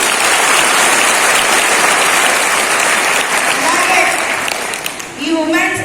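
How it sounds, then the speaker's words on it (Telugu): Loud, sustained applause from a gathered crowd thanking hardworking parents fills the space for several seconds, then tapers as a voice begins speaking near the end. "గట్టిగా చప్పట్లు కొట్టండి"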